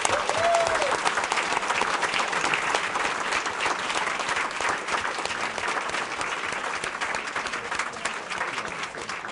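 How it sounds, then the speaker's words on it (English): An audience at a school district governing board meeting breaks into sustained, steady applause for an honored school, a dense wash of clapping hands that holds its level throughout without any speech. "let's give them a great round of applause"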